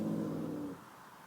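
A pet cat named Simba gives a low, quiet growl from nearby, a short rumbling sound lasting under a second before fading into silence.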